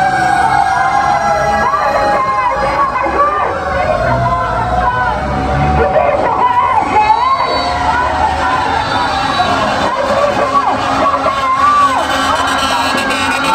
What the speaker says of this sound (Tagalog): Daming dumadaan ng bumbero eh.